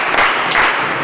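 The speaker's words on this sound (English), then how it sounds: "3 claps for him." A physics classroom gives three claps for a student who answered correctly, a short burst of crowd clapping swelling twice in the brief moment, fairly loud and close.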